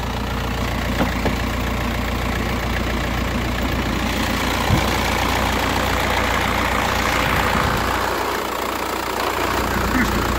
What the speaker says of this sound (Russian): Крышка тарахтит, слышу.